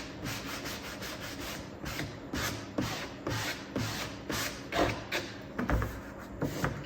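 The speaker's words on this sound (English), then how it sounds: "dragging my sanding block down the edge. You'll see little shards scrape off." A sanding block dragged repeatedly along the edge of a wooden door sign, giving close, rhythmic rasping strokes roughly every half second, steady and moderately loud with no voices.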